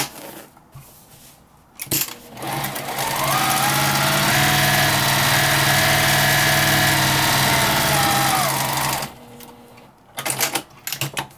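A sewing machine stitches fabric for a zipper bag in one steady, loud, fast-running burst of several seconds, framed by short handling clicks and rustles before and after.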